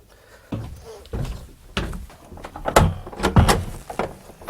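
A heavy door to old coal-delivery tunnels opens nearby with a series of clunks, thuds and scraping knocks at an uneven pace.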